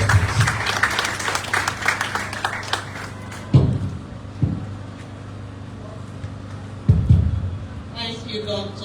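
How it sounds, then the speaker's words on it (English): Audience applause at a hospital ward commissioning ceremony, a burst of clapping in the opening seconds that fades quickly, followed by a few isolated thumps and low room noise. "Round of applause, please."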